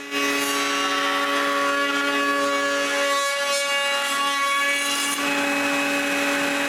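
A router whines steadily and loudly at a constant pitch while rounding over the edges of thin maple strips, with faint rubbing of the wood along the cut and no talk.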